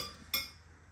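A single light clink of a utensil against a dish while a sweet potato leaf salad with salted anchovies and egg is tossed, one short near tap over quiet room tone.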